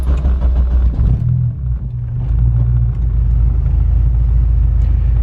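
A car engine idling on E85 fuel with stock injectors: a loud, steady low rumble at close range, with a slight dip and recovery early on, then a constant drone.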